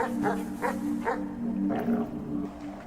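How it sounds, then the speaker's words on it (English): A dog barks in the video game Red Dead Redemption 2. There is a quick run of about six sharp barks, moderately close, in an uneven rhythm. "That dog just grabbed you."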